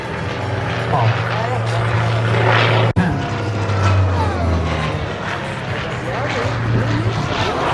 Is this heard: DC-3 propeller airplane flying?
yes